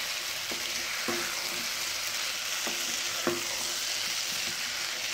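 Mixed vegetables with half-fried potatoes sizzle steadily in a pan for a dhaba-style sabzi, a ladle stirring with several soft scrapes and knocks against the metal, close and even.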